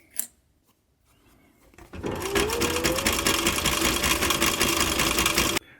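Sewing machine running a long steady stitch along a leather pillow seam, starting after a short click and quiet pause, then a close, loud, continuous whir until it stops abruptly.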